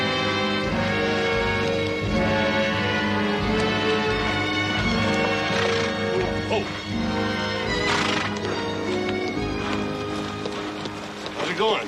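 Horses whinny and neigh loudly over rhythmic clip-clopping hooves, with people talking in the background.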